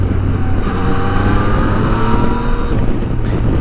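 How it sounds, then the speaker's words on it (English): Yamaha MT-09 motorcycle engine running hard while riding, a loud, steady droning engine note with rising and falling pitch under wind rush, no talking. "I like that power the Yamaha MT-09 engine gives."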